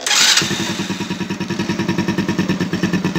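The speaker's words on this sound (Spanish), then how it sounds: "vamos a acelerar un poquito más" A short burst of noise gives way to a 110–125cc Cub-type motorcycle engine running at a quick, even chugging pulse, slightly higher revs than idle.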